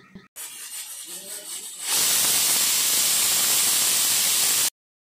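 Steam hisses loudly and steadily from a pressure cooker of soaking chickpeas, a sustained bright rush that bursts on after a quieter stretch with faint background sounds, then cuts off abruptly.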